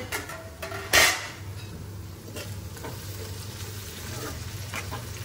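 Okra and onions sizzle steadily in a pan with a soft continuous fry, and a sharp metallic clank of a spoon against the pan breaks in near the start.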